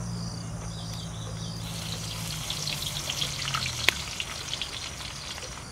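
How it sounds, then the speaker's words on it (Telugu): Chopped onions frying in hot oil for Maggi masala noodles in a street-kitchen setting: a steady, close, crackling sizzle with a faint hum underneath early on, and no talking. "adding oil, adding chopped onions"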